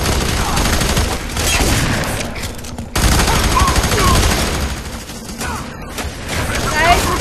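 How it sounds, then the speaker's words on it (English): Shotgun blasts and heavy gunfire from the video game F.E.A.R. 3 come in loud, dense bursts with a sharp crack near the middle, with voices talking over the action. "God, he has a shotgun in our face."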